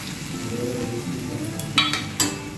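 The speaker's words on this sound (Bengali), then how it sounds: "এবার জল দিয়ে দেবো, এতে সবার আগে জল দেবো, পেঁয়াজ বাটা জলটা, পেঁয়াজ রসুন বাটা জল।" Onion-garlic paste water poured onto chicken in a hot pan, a steady loud sizzle with a couple of brief clinks and splashy bursts near the end.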